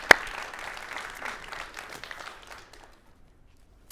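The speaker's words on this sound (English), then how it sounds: "Let's give him a round of applause." Audience applause at a faith-themed gathering, a moderate burst of clapping after a sharp opening hit, fading out over about two and a half seconds into near silence.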